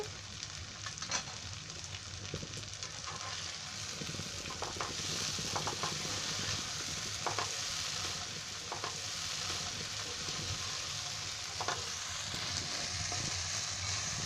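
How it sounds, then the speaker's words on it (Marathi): Tomatoes and other ingredients for Konkani veg pulav are stirred in a hot pan, giving a soft, continuous sizzle broken by intermittent scraping taps of the utensil, fairly quiet and close, with no talking. "हे असं चांगलं हलवून घ्यायचं, म्हणजे टोमॅटो आहेत ना अजून शिजायला पाहिजे."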